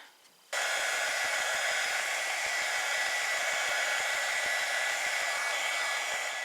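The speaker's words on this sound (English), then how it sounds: "So now I'm using a heat gun." A heat gun blows steadily on embossed printer paper, a loud continuous airy roar that switches on abruptly after a brief quiet start and holds without pause.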